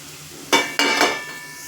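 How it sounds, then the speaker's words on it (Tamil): Ginger garlic paste is stirred and fried in a pan for kara semiya: two or three quick scraping stirs with bursts of sizzle, then a lingering hiss. "இஞ்சி பூண்டு பேஸ்ட்டு போட்டு இப்படி நல்லா மிக்ஸ் ஆகிடணும்"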